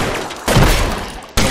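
Loud gunfire bursts from a shootout in the video game L.A. Noire, one sustained blast followed by another sharp onset near the end, with no talk.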